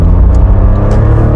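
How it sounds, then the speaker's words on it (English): A 1992 Honda Beat on the move gives a loud, steady mechanical whine and drone from the gearbox or differential over a low road rumble, with no talk. "you can hear the gearbox, or the diff at least."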